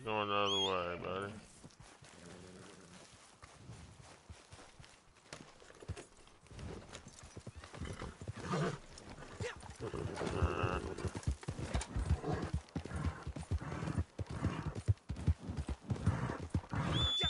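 Horse hooves clip-clop steadily in the Red Dead Redemption 2 online world, a brisk uneven patter running through most of the stretch, with a player's voice and some whinnying mixed in near the start.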